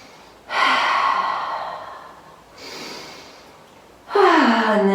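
A child breathes deeply while holding a yoga pose. Three long, loud breaths are spaced a couple of seconds apart, close to the ear, with a voiced sigh on the last one.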